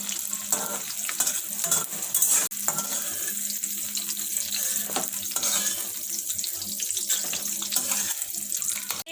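Onions and mushrooms fry in oil in a kadhai over a high flame, giving a steady, close hiss and sizzle with occasional clinks and scrapes of stirring, and no talking.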